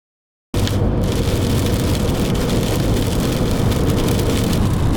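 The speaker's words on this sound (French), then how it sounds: "Il pleut sa mère, je sais pas si on voit. Mais il pleut." Steady rain pours down in a dense, constant hiss that starts abruptly after a brief silence, heard from a car during a road trip in Belgium.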